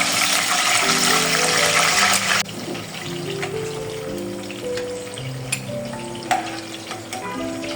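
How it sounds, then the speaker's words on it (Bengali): Raisins frying in mustard oil in a pan, a loud, close, hissing sizzle that drops sharply after a couple of seconds into a softer bubbling crackle with occasional clinks. "আমরা কিশমিশগুলো ভেজে নেব একই তেলে।"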